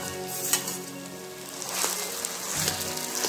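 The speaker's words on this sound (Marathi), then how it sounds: "आता छान आपण मिक्स करून घेऊया, परतून घ्यायचे छान" Steady sizzling and frying of mashed potato sautéed in a pan for pav bhaji, with occasional scraping stirs, close up, with no voices.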